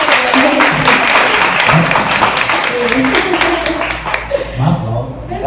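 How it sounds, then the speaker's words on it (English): A small group claps in a quick, close round of applause during an interview, with voices and a little laughter mixed in before the clapping trails off. "Gotta give a round of applause for that."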